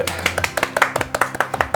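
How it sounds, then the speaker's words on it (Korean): A small group at a visit to a creative hub in Pangyo gives a short round of applause, crisp individual claps ringing out in quick succession, fairly close and moderately loud. "저희한테 박수 한번 주세요"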